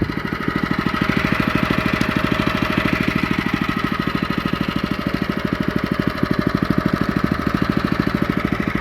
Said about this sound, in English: you can hear the engine bogging down